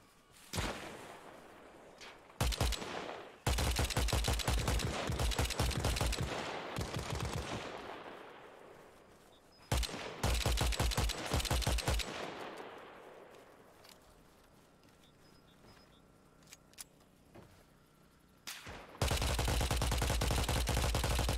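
Gunfire in Arma Reforger's WWII battle mode: long, loud bursts of rapid automatic fire with single shots mixed in, cutting off and resuming several times, with no talk.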